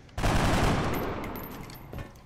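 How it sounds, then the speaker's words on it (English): Soldiers in the XCOM video game firing wildly, a sudden loud burst of rapid automatic gunfire that roars for about two seconds, slowly fades, and ends with a faint click. "there's no reason not to fire wildly and waste some ammo first"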